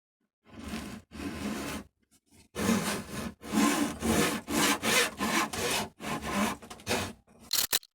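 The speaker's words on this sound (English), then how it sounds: "get these slots recut." Fret slots being recut by hand saw in a guitar fingerboard, a series of short, close rasping back-and-forth strokes in quick bursts separated by brief pauses, with no voices.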